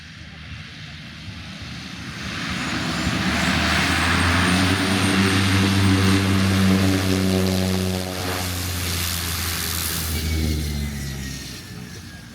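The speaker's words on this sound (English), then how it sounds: "Here comes the plane." A small propeller plane on a Fiji island approaches and runs up its engine for takeoff, a loud, steady droning hum that builds over a couple of seconds and holds close by, with a slight dip midway.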